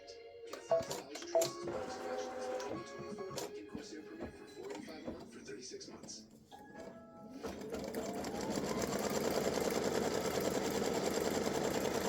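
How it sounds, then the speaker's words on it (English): A sewing machine stitches vertical and horizontal alignment lines on a champagne-glass appliqué. A steady mechanical whir builds and holds for the last few seconds, after quieter handling noises and a voice talking. "I'm going to stitch my vertical and my horizontal alignment lines."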